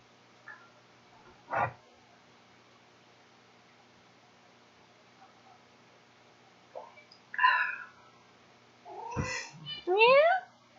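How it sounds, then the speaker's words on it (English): A pet cat named Shadow meows a few times indoors, short rising and falling cries near the mic, with brief bursts of people talking in between. "Now the cat is here."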